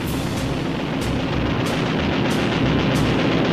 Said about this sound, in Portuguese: 4 canhões M3 de 20 milímetros, cada um capaz de disparar 12 projéteis de 128 gramas por segundo.